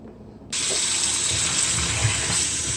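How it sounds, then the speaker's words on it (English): Water suddenly gushes from a tap into a cooking pot, a strong steady rushing stream that starts abruptly after a moment of near silence and runs on evenly, while preparing Jamaican red peas soup. "Let me get some water from the pipe"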